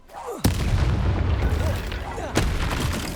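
Confringo spell blasts in Hogwarts Legacy, two loud sudden booming explosions about two seconds apart, each followed by a rumbling roar and crackling debris.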